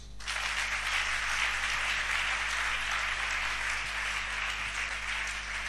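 A church congregation applauding in praise of Jesus, with steady, dense clapping from many hands sustained throughout at moderate distance and no talk over it.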